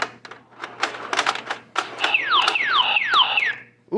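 Electronic tabletop pinball game making busy beeping and clicking effects, with a run of repeated descending electronic tones toward the end, close and fairly loud.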